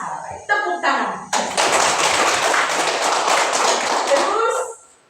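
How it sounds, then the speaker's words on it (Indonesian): Children in a classroom clap their hands, a few scattered claps and voices at first, then a loud, dense burst of rapid clapping lasting about three seconds before quickly dying away. "Tepuk tangan."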